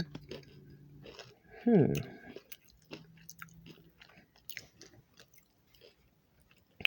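A person crunches on food while sitting quietly, with one loud bite and a burst of crunching followed by softer chewing and scattered faint clicks, close to the mic, with quiet speech around it.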